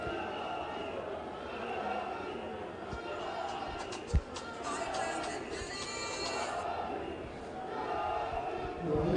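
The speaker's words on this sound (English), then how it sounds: "The Malians are cheering their team here." A stadium crowd of Mali football fans cheers and chants in a steady roar at a Guinea–Mali match, heard at a distance beneath a commentator's voice, with one brief thump partway through.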